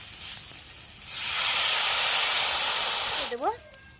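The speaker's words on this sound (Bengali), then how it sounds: "এখন আমি পরিমাণ মতন জল দিয়ে দেবো।" Water poured into a hot pan of frying bitter gourd and potatoes for a Bengali jhol sets off a sudden loud, steamy hiss that holds for about two seconds, then cuts off, followed by a brief vocal sound.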